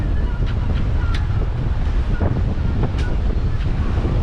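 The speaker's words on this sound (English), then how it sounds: "15 knots of wind" Steady wind rushing over the microphone aboard a sailboat heading upwind in 15 knots off the west coast of Scotland, a constant loud roar with faint water wash and brief higher gusts throughout.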